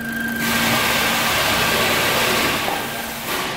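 A 2016 Toyota Corolla with a newly replaced engine idles on its first start, a steady, even mid-pitched hum held close and loud with no talk over it.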